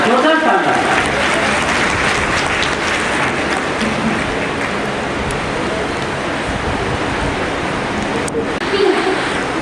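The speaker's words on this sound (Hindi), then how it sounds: "जोरदार तालियां।" Audience applause at the 174th Rajarshi Jayanti celebration at Udai Pratap College, Varanasi, a steady, loud roar of many clapping hands that carries on for several seconds without pause.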